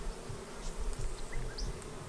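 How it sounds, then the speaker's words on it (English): Bees buzz steadily around a beekeeper at an open hive, a soft continuous hum with individual insects drifting past close by. "There's a couple buzzing around me like really not happy"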